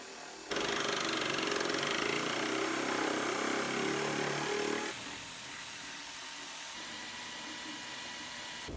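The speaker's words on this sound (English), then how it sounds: "All right, power tool time." A power tool whirs loudly and continuously for several seconds, then drops to a lower, steadier running pitch as it carries on without any talk.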